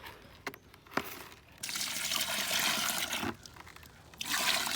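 Mixing water poured into a concrete mix for resurfacing an old driveway, heard as a close, steady splashing pour in two bursts with short pauses between.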